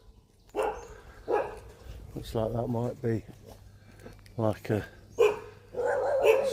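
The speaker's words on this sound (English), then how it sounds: "There was no dogs last time we came here" A few dogs barking in short harmonic bursts, two or three brief clusters at mid distance, mixed in with ongoing conversation from people nearby.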